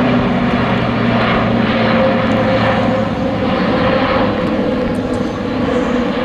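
An Airbus A400M military turboprop transport flies a display at the ILA Berlin air show, a loud, continuous droning roar of propellers and engines that stays steady throughout without any voices.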